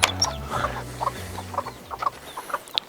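Mother hen Gloria, her chicks and other hens cluck softly in a secure pen, scattered short calls and peeps over low rumbling background, close and moderately quiet with no speech.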